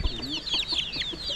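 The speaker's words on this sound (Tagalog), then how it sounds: "Ang dami na manok mo, Lolo Boy." Chickens clucking and calling near the recorder, a few short bird notes over a faint background.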